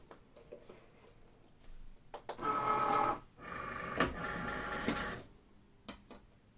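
Cricut Maker cutting machine loading a cutting mat, two stretches of motorized whirring with a short pause between them, framed by soft clicks, close and quiet in an otherwise still room.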